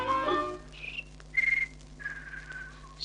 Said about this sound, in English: He whistled and I came running.